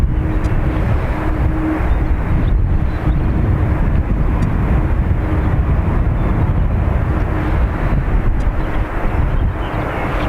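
Heavy jet airliner departing Dublin Airport, heard as a steady, loud broadband engine roar with rumble that holds constant throughout, partly mixed with wind noise on the microphone.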